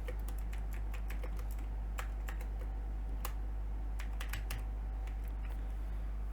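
Someone typing a name on a computer keyboard, light keystroke clicks in irregular bursts over a steady low hum, faint and with no speech.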